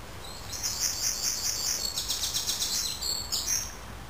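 Birds chirp and tweet outdoors at a quiet bushcraft camp, with clear repeated high trills and short calls over a low, steady background hush.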